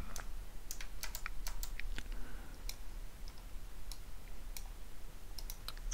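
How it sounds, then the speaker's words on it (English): A stack of punched cards is loaded into the card reader of an IBM 1401 mainframe, giving scattered sharp clicks and taps over a steady low machine hum, no voices. "Put the stack into the card reader."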